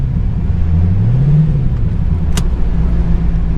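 A 1995 Corvette C4 with an LT1 engine rumbles loudly nearby. There is a single quick rev that rises and falls, and then it drops back to a deep, steady idle.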